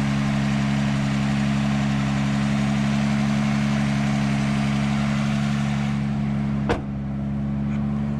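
A single-turbo, built-motor Toyota Supra with a six-speed gearbox idles while warming up, giving a steady, close, humming drone with a single sharp click near the end.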